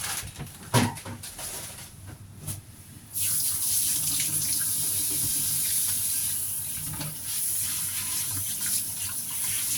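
Tap water running at a kitchen sink while hands and wooden utensils are washed after cleaning shrimp, a few clatters and splashes, then a steady loud gushing stream that lasts to the end.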